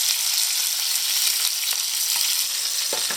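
Potatoes sauté uncovered in a pan after being turned, a dense, steady close-up sizzle with a few faint knocks near the end.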